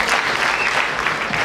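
Audience applause at a Rwandan cinema award event, a dense burst of crowd clapping close and lively, brief and continuous.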